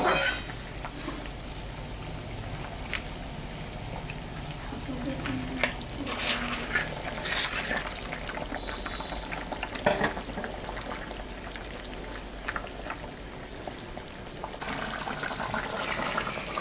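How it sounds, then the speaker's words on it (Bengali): Koi fish go into a boiling gravy in a home kitchen, with continuous close sizzling and bubbling, punctuated by scattered clinks and stirring noises, for the whole stretch. "ঝোলটা ফুটে গেছে, এখন আমি মাছটা দিব।"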